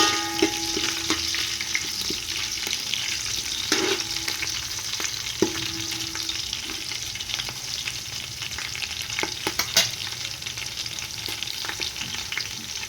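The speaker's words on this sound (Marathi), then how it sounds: "आता आपला कांदा लाल. मिरची टाकून घ्यायची." Chili goes into onion frying in a pan, a loud steady sizzle with repeated stirring clinks and scrapes up close, no voices.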